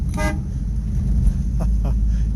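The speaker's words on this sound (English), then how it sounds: "Has a great horn." Twin trumpet horns on a vintage Rambler car give a short, bright honk near the start, followed by two briefer toots over a steady engine idle.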